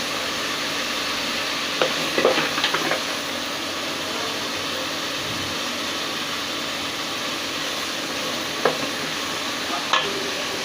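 Turmeric and spices fry in oil in a pan, a steady sizzle running throughout with a few scraping stirs and clinks of a utensil near the start and end.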